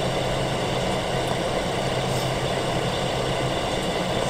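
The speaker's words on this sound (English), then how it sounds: "The engine should be in pump gear, idling." A fire engine sits idling in pump gear, its engine giving a steady, even drone close by, with a constant low rumble and mechanical hum and no voices.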